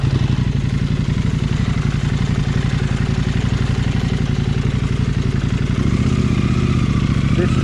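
KTM 790 Adventure R motorcycle with a Wings slip-on exhaust and tuned ECU chugging steadily up a small hill, a loud, close, even low-revving engine thrum throughout.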